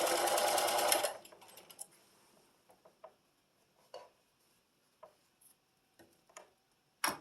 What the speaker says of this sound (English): I'm just going to match them up and sew a diagonal line